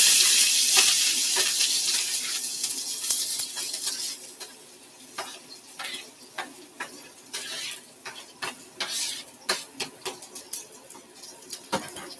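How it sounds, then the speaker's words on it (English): Oil sizzles steadily as tomatoes, peppers, carrots and onions fry in a pan, with a spatula stirring and scraping in irregular bursts, close and fairly loud. "now I'm going to be frying up my tomatoes, my peppers, my carrots, and my onions"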